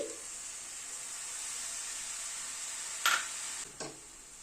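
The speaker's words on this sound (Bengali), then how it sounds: "এবারে কমলা লেবুর রসটা দিয়ে দিচ্ছি।" Orange juice poured into a pan of sizzling fried rice: a faint steady hiss, then a couple of sharp stirring clatters near the end.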